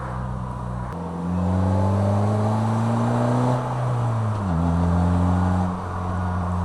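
A Polaris Slingshot engine revs steadily while driving, a loud, close drone that rises in pitch, dips briefly, then climbs again, with no talking.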